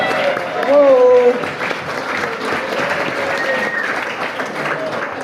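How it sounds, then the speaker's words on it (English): A crowd of onlookers at a Southern Africa outing breaks into steady applause, dense clapping that fills the whole stretch with a brief shout and voices mixed in near the start. "Let's give my gutsy wife a round of applause, please."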